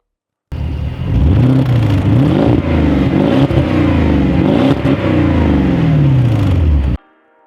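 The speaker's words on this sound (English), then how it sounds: "giving the V8 a much more aggressive and throaty sound compared to stock" Porsche Cayenne Turbo 955 V8 SUV with a custom sport exhaust installed after the downpipe, revving repeatedly with rising and falling throttle blips, loud and close, steady engine roar throughout with no talk.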